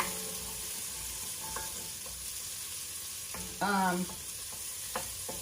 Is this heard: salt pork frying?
yes